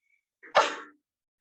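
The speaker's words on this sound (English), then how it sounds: "I need to sneeze" A single sharp human sneeze, close and loud, with a short inhaled build-up just before the burst and silence around it.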